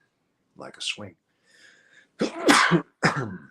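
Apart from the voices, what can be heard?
sneeze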